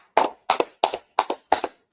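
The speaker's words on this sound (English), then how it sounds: "Clap it up for the class." Rhythmic hand clapping for an online class, five evenly spaced paired claps, close and crisp, with short silent gaps between them and no talking.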